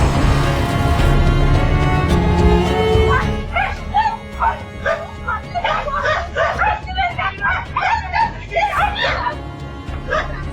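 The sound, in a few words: pet dog barking at a woman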